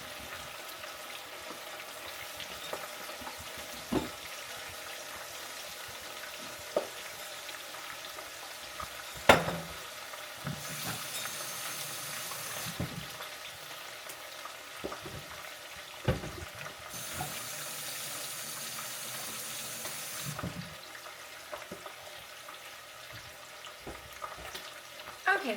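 Chicken wings frying in hot grease give a steady low hiss with bursts of brighter sizzle, plus occasional clinks and knocks of a spoon moving them around the pan.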